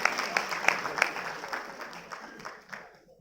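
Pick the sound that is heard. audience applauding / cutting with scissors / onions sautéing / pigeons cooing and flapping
audience applauding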